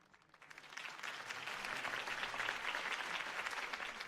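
Applause from a crowd in the video game Batman: The Telltale Series swells in after a quiet start, then holds as a steady wash of clapping, moderately loud and without voices on top.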